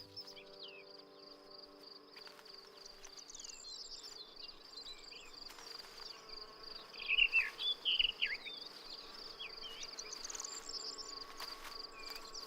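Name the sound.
insects around spring flowers in Spain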